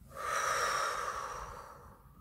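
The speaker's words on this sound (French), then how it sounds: "On expire, on relâche tout." One long, audible exhale during a sophrology relaxation exercise: breath released through the nose and mouth, rising quickly and then tapering off over about two seconds, close to the microphone.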